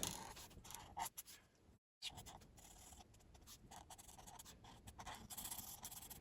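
An Ohuhu marker's thin nib scratches across paper in close, quiet, repeated strokes, with a short silent pause partway through.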